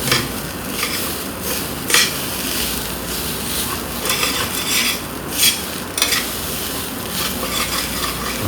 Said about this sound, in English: I'm scraping the bottom so nothing sticks to it.